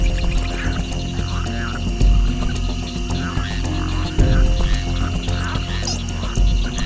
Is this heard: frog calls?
yes